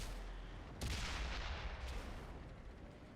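Heavy tank cannon fire in World of Tanks: two booming broadband blasts about a second apart, each rolling into a long rumbling tail over dense, continuous battle noise.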